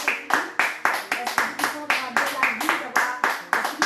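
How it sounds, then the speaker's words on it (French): A church congregation claps in steady rhythmic unison, sharp repeated hand strikes about twice a second, close and loud, with singing or voices running underneath. "nous l'applaudissons pour le glorifier, nous donnons gloire et louange"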